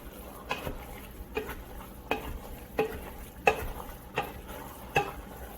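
A spoon stirs chili meat in a pot, giving regular scraping knocks about every seven-tenths of a second over a low, steady sizzle, close and clear with no voices.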